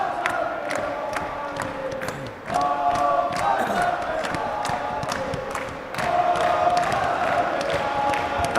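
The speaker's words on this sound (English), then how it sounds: "I'm gonna let you listen to the crowd on this one." A volleyball crowd at the Al Wilayah 2022 tournament chants a name in rhythmic unison, loud and sustained, with whoops and cheers rising over the repeated chant.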